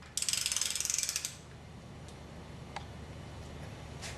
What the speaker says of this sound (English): The best way to do that is put the ratchet up with the wrench so you can squeeze it with your hand.